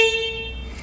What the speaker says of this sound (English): Horn worked.